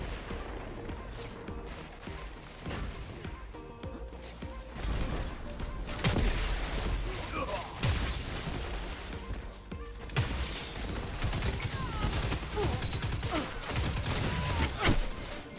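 Rapid gunfire and sniper shots from the Destiny 2 Beta multiplayer game, dense and loud, with bursts, booms and crashes stacked over a busy game soundscape that never lets up.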